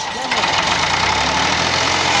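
A tractor engine running at speed outdoors, a loud steady mechanical roar and rattle that continues throughout.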